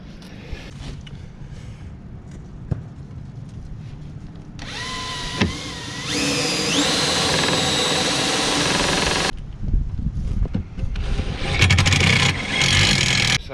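A power drill whines loudly in sustained runs as self-drilling screws bite into a composite board on a boat transom riser, with pauses of clattering and handling noise between bursts.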